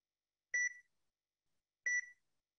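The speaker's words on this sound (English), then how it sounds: "So it's beeping because I'm moving." A VisionAid reading device gives two short electronic beeps about a second and a half apart, reacting to motion, clear and isolated against silence.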